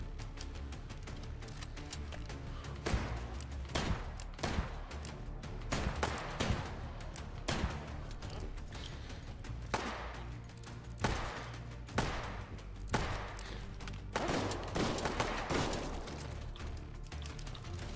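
A shotgun fires buckshot in the Hot Dogs Horseshoes game, sounding as a string of sharp blasts at irregular intervals over constant background noise.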